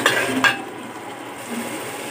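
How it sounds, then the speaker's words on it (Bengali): Spice paste being stirred and sautéed in a pan for a Bengali pui shak and fish dish, with a couple of spoon scrapes and clinks at the start, then a soft, steady sizzle. "আমি খুব ভালোভাবে মশলাগুলো কষিয়ে নিব"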